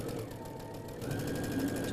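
Sewing machine stitching quilt patchwork, a steady close mechanical whirring hum that grows slightly louder partway through, with no voices.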